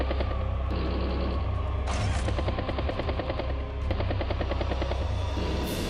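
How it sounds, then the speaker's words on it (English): Seaplane strike on a tank in the video game Advance Wars: Days of Ruin, a loud continuous barrage of rapid rhythmic gunfire and roaring aircraft noise with layered explosive bursts, without voices. "Seaplane strikes the tank."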